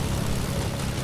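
Steady propeller plane engine drone inside a video game, a loud continuous hum with no breaks and no talking over it.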